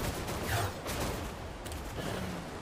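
Yi Ling creature in ARK: Survival Ascended on the Aberration map loosing Razor Feathers in volleys: a dense run of sharp, whooshing bursts that come in quick succession and stay loud and close, with no voices over them.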